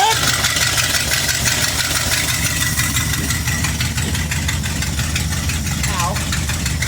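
An engine idles after a cold start at 30 degrees, a steady close chugging rumble with a faint knock, while voices talk briefly over it.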